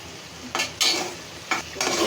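Beef tripe being stirred and sautéed in a pan in a village kitchen, with two bursts of scraping and sizzle over a steady frying hiss, close and fairly loud.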